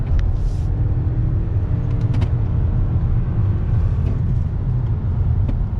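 A 2020 Toyota Camry Hybrid accelerating in sport mode gives a steady, dense low drone and road rumble heard from inside the cabin, continuous and unbroken with no voices.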